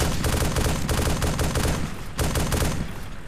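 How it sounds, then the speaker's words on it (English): Dense automatic gunfire and overlapping shots crackle through a realistic war video game firefight, a continuous loud barrage with a brief dip before the shooting resumes at full intensity. "Taking fire!"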